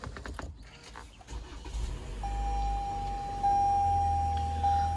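A 2019 Toyota RAV4 SUV engine cranks and catches, then settles into a steady, fairly loud idle close by, with a high electronic chime tone sounding through the cabin.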